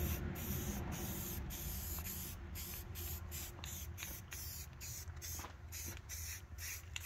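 Spray paint hissing steadily from close by as parts from an old International tractor's blower are coated, broken by frequent brief pauses between short passes.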